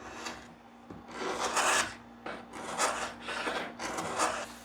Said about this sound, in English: Go ahead and scrape that varnish off.